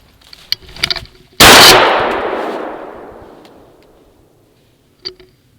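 A single loud shotgun blast during a grouse hunt on a forest trail, sharp and close, with a long fading echo through the woods, a few footsteps or clicks before it and a faint click afterward.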